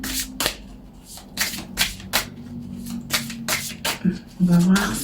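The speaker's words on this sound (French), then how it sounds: "Alors on va tirer la carte avec l'oracle des artisans de la lumière." Oracle cards being shuffled by hand, close up: a rapid, uneven run of papery flicks and riffles lasting several seconds, with a person's voice briefly audible near the end.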